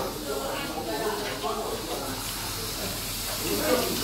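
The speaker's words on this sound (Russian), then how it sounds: "Пар мощнейший. Как будто паровоз работает." Steam hisses continuously from a Chinese hotpot samovar at a restaurant, a broad, steady rushing spray that holds at an even level throughout.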